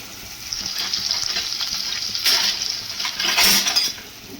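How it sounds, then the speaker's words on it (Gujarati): Green onions and garlic sizzle in hot oil in a pan for dal fry, a close steady frying hiss broken by a few louder bursts as the mixture is stirred, with no talking. "હવે આપણે એને હલાવી નાખવાનું છે, એટલે આ બધી વસ્તુ આપણે તેલમાં એકદમ મસ્ત રીતે ચડી જશે."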